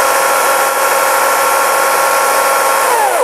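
A 36V cordless chainsaw idling at a steady high-pitched whir, loud and close, then winding down at the end as the motor is released.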